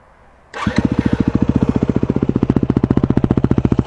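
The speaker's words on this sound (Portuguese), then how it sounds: "Liga a moto." A Yamaha WR 250F motorcycle engine fires up after a brief quiet moment, then settles into a loud, close, rapid and evenly pulsing idle.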